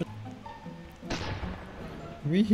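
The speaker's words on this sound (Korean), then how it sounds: "이건 대포 소리였어 항상." A cannon in the Roblox game Bee Swarm Simulator fires once near the middle with a single heavy boom that fades out, layered over the game's background sounds. A voice speaks briefly at the end.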